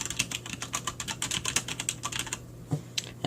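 Rapid keystrokes on a programmable gaming keyboard with light-up keys, a dense run of close, crisp clicks for about two seconds, then a pause broken by a single press near the end.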